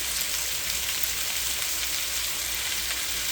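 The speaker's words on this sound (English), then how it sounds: "Going to get hers with the red pepper and some of our onions." Red pepper and onions for fajitas sizzle loudly and steadily in a hot pan, a dense continuous frying hiss with no voices.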